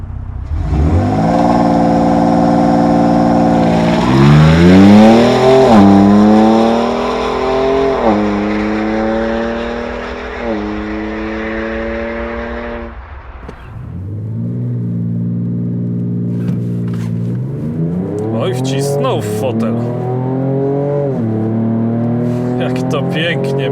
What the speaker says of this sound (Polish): Zobaczmy, jak ten samochód przyspiesza.